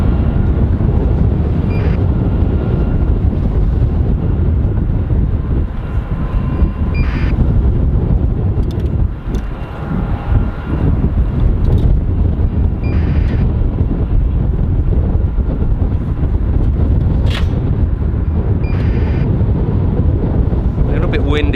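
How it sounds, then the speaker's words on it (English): Strong wind roars steadily across the microphone on top of an airport control tower, a loud continuous buffeting rumble with brief lulls, while a person talks underneath. "Windy on top of the control tower here"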